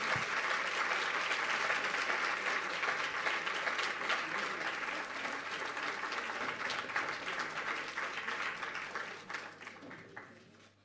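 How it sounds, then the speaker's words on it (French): Science teachers' congress audience gives the conference speakers sustained applause in a hall, a dense even clatter of many hands that holds steady, then thins and fades out over the last couple of seconds. "vos applaudissements, je suppose"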